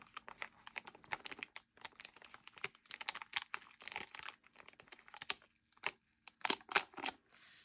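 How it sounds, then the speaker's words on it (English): Plastic packaging with a deep crinkle, handled up close during rose diamond painting, gives irregular bursts of crackling rustles, sharper and louder toward the end, and no one speaks. "Because it has more of a deep crinkle sound than that super high-pitched cracking."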